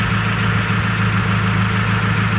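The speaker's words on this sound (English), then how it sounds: "Just going to listen to the injector and hear it click." A truck's idling engine picked up through a screwdriver pressed to a fuel injector, giving a steady, loud, even mechanical hum with faint regular ticking from the injector throughout.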